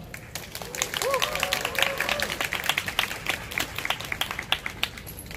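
Crowd applause at a Seoul National University student rally in 2019, greeting the student council president as he comes up to speak, steady dense clapping with a few voices and shouts mixed in.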